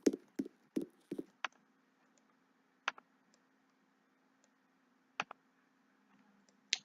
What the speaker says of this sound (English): Sorry if you can hear us clicking.